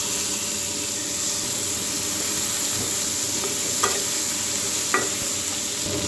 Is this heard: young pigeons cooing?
no